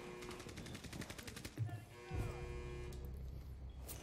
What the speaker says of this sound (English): There's explosions and stuff